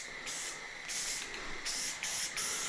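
Spray-gun bursts of filler primer onto car sway bars, five hissing pulses of about half a second each, close and steady, separated by short pauses with no talking.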